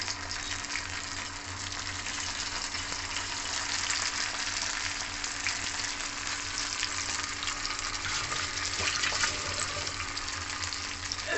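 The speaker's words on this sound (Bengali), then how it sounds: "চাটুতে আমি ভাজছি।" Battered jackfruit fritters shallow-fry in a little oil on a flat tawa, giving a close, dense, unbroken sizzling hiss that stays even throughout with no talking.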